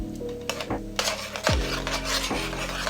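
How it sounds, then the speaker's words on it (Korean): Wine and tomato paste being stirred into sautéed garlic and onion in a pan, with scraping, rubbing utensil strokes and a few clinks against the pan, close and steady throughout. "와인 250ml랑 토마토 페이스트 한 큰술을 넣고 잘 섞어줍니다"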